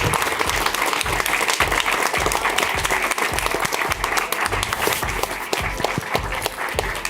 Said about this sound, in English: And the applause goes on.